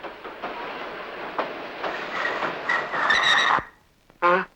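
A passenger train on an Indian line near Madurai rumbles and clatters as it slows, wheels grinding and squealing briefly before coming to a halt, followed by a short sharp screech.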